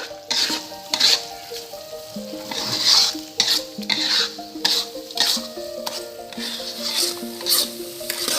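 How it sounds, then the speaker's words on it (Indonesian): Peanut sambal sauce sautéing in a pan, stirred with rhythmic scrapes and clinks of a utensil over a continuous sizzle, near and fairly loud, and no one speaks. "Nah selanjutnya kita tinggal aduk aja."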